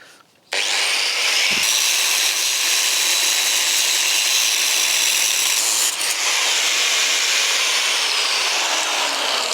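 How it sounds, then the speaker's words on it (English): A power grinder cuts through metal during a tower room rebuild, starting abruptly after a short pause and then holding a loud, steady, harsh whine close by with a brief dip near the end. "I think I'm gonna grind it in two and then weld it together"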